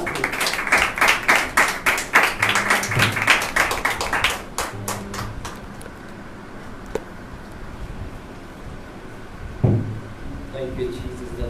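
A church congregation at a Thursday healing service claps loudly in a fast, dense burst for about four seconds, then the applause fades into a quieter room with a few scattered claps and faint voices.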